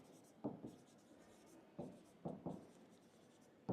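A pen scratches across paper while a math problem on area between curves is worked out, heard as quiet, close strokes in short bursts separated by pauses.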